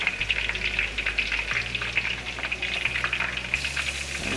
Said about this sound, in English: So let's flip our burger.